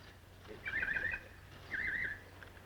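Two high whinnies from a horse in an old Lone Ranger radio drama, each about half a second long, separated by a short pause over a faint background hum.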